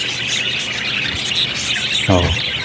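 A pet keet (budgerigar) chirps in short, close tweets over steady background noise, with a louder squawky call near the end.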